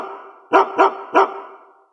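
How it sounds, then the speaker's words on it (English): Dog barking three times in quick succession, close and loud, each bark short and sharp against otherwise silent surroundings. "It's the bark heard round the world."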